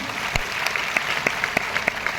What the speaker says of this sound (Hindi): अरे जोर से ताली बजाओ इनके लिए